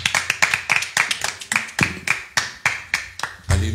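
A church congregation claps in a steady, brisk rhythm, roughly a dozen firm claps ringing out in a reverberant hall with no voices on top.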